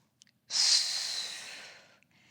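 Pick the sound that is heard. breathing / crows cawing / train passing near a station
breathing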